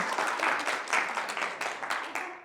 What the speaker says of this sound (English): Give Ansi a clap, come guys.